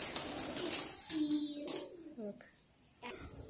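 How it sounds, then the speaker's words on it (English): Farm pigeons coo in short low phrases nearby on a windy day in Islamabad, heard between a woman's speech and a voice. "these are the pigeons that we have."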